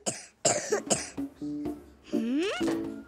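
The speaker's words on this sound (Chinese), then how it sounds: "你咳嗽的时候要怎么样？" A young child coughs several times in short bursts up close, mixed with small vocal sounds and a brief rising squeal.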